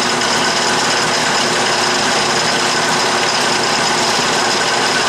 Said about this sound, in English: This Atlas lathe is a noisy machine.